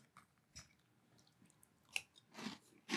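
Little Debbie Cosmic Brownie cereal with milk being chewed close to the mic, with soft, quiet crunches and wet bites coming in a few separate bursts.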